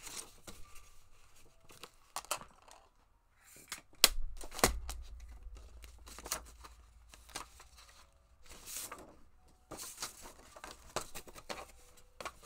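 Scissors cut journal binding material close by in a few separate crisp snips and rustles, then a soft thump and more handling. It stays fairly quiet, with no talking.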